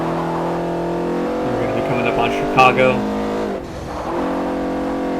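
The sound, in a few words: car engine accelerating in a racing video game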